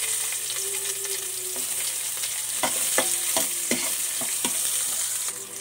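Onions frying in rendered pork fat for sinigang give a steady close sizzle, with several sharp stirring scrapes of a spatula against the pan through the middle and end.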